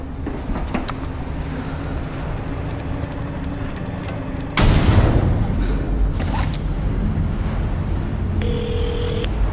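A phone call in the video game Resident Evil 4 Remake: a low, steady rumble of game ambience swells partway through, and a short electronic tone sounds near the end.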